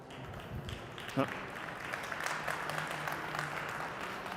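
Audience applause at a CeBIT conference panel discussion, a steady wash of clapping that carries through the whole stretch, with voices talking over it.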